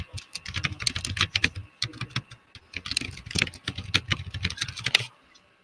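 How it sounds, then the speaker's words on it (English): Rapid typing on a computer keyboard clatters in uneven bursts of key presses, fairly close and clear, with short pauses between runs and no talking over it. "Who's doing all the typing?"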